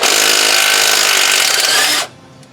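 A DeWalt power tool whines loudly and continuously as it works on corroded ball joint bolts on a Dodge Ram 3500 truck, then cuts off abruptly and leaves near silence.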